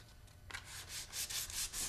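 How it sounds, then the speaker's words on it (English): 220-grit sandpaper rubs back and forth on a wooden edge in quick, soft rhythmic strokes, close by and fairly quiet. "we'll take some 220 grit sandpaper and do a little bit of sanding to sort of soften this edge"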